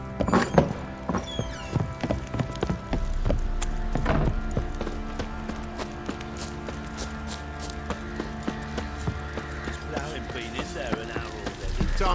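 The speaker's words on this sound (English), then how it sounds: "Time to water the horses." Horse hooves clip-clop in a steady, rhythmic gait in The Witcher 3: Wild Hunt, mid-distance and moderately loud, layered with a dense bed of game ambience and other effects.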